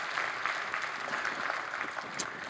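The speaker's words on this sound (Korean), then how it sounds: "존경합니다 뜨거운 박수로 맞이해주시기 바랍니다." A Sunday church congregation applauds warmly to welcome the pastor, a steady dense patter of many hands clapping throughout, moderately loud and even, with no voice on top.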